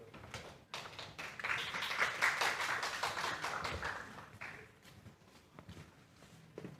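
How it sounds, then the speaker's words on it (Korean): At a senior citizens' assembly in Chuncheon, a modest crowd claps to welcome a presenter to the stage, with sharp individual claps building into sustained applause that tapers off toward the end. "큰 박수로 환영해 주십시오."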